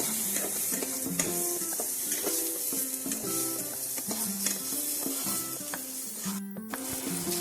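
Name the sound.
brinjal frying with salt and turmeric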